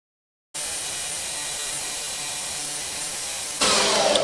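A grinding wheel shapes full-tang knife handle scales with a steady, loud, continuous broadband whine lasting several seconds, which jumps sharper and brighter near the end as the contact pressure changes.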